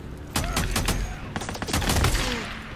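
A mounted machine gun in the motorcycle survival game Days Gone hammers out loud, rapid bursts, the individual shots closely spaced and repeated over a constant, noisy battle background.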